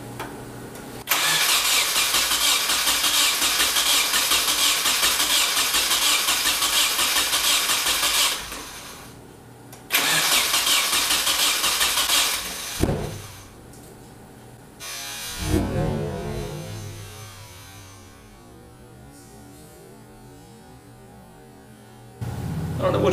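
A Nissan KA24DER engine cranks in long steady whirring bursts without catching, then a loud single backfire thumps out, followed by rough sputtering and a quieter lull in a garage.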